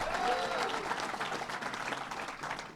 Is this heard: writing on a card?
no